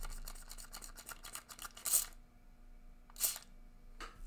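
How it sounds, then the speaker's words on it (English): A spray bottle mists water onto a wet ink wash drawing in three quick hissing bursts spaced about a second apart, fairly close, with light rustling in between. "while it's still wet, you take a spray bottle"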